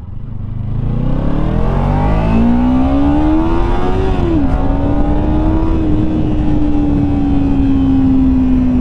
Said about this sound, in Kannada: ಇಂಜಿನ್ ಸೌಂಡ್ ಕೇಳಿದ್ರ